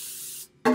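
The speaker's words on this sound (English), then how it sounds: "So now we just take a little bit of spray." A steady hiss of aerosol cooking spray onto a baking pan for about half a second, a brief pause, then a louder burst of spray, close and alone.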